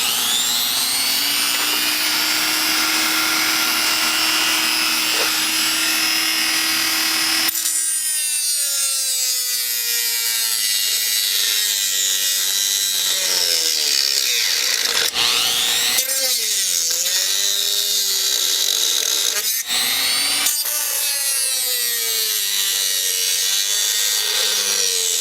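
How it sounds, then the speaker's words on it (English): Dremel rotary tool cutting through plastic tabs inside an Xbox console, a loud continuous high-pitched whine whose pitch dips and rises repeatedly as the bit bites into the plastic, with brief pauses and restarts. "So we can do that again with the Dremel."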